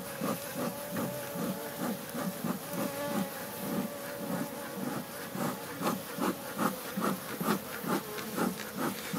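Honeybees in an opened hive colony, during a varroa treatment, hum in a steady, close buzz with pulsing swells and no one speaking.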